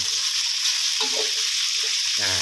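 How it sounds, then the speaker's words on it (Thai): Sliced carrots, thick and firm, stir-fried in a pan for a chicken mixed-vegetable stir-fry, giving a steady close sizzle with soft scraping stirs, alone without voices. "ก็เลยต้องใส่ไปผัดก่อนครับ"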